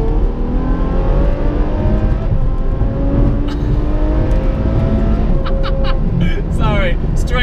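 Ferrari F12 with an Innotech IPE exhaust accelerating hard to overtake on a straight road in England, a loud rising engine note climbing through the gears, with a voice talking over it.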